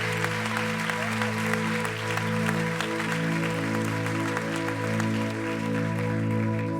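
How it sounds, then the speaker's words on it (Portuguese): A church congregation applauds for Jesus, a continuous dense patter of clapping layered over a sustained organ or keyboard chord that hums steadily underneath. "Dê um aplauso para esse Jesus."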